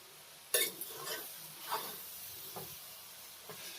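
A spoon scrapes and stirs tomato rice in a pan, with a sharp first scrape and a few softer strokes spaced about a second apart over a faint sizzle.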